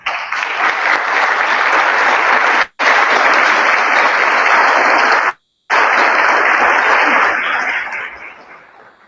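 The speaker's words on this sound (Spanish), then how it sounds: "Lo recibimos por un fuerte aplauso" Strong applause welcoming a conference speaker, a loud, hissy wall of clapping broken by two brief dropouts, then fading away toward the end.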